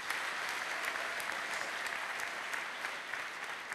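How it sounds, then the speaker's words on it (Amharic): A church congregation claps steadily and evenly throughout, a dense wash of many hands at moderate distance with no voices standing out. "እስቲ ለእሷም አጨብጭቡ።"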